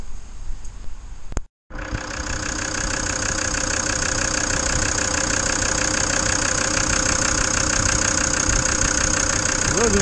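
A Volkswagen Crafter 2.5 diesel engine catches after a brief cut in sound, then settles into a steady, loud idle with a constant clattering hum, heard close and alone.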